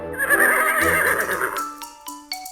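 A horse standing in its stable gives one loud, wavering whinny, then a few bright chiming tones ring out in a cartoon farm scene.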